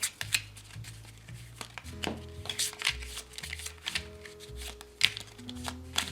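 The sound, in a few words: shuffling a deck of board game cards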